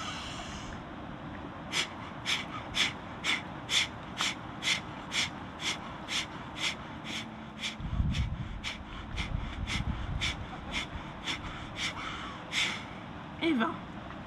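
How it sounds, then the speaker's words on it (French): A person doing a rapid deep breathing exercise, about twenty sharp, evenly spaced breaths in a steady rhythm, close and clear, with low rustling midway. "Nous allons commencer par 3 séries de 20 respirations"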